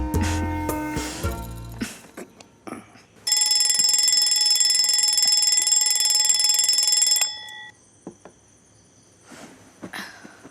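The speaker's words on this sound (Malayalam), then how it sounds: "ഞാൻ അലാറം വയ്ക്കാം." An electronic alarm clock rings in a bedroom in a Malayalam film scene: a loud, steady, high-pitched tone that sounds for about four seconds after some brief clatter, then cuts off, leaving a few faint knocks.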